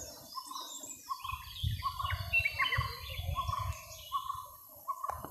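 Several birds chirp and call in a Western Ghats forest near a coffee plantation, bright overlapping tweets over a low rumbling background, moderately close.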